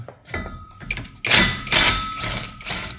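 Power tool whirring in short bursts while removing bolts at the back of a Volkswagen R36 engine during engine removal prep, with the tool catching; loud, close, intermittent runs with metallic clicks between.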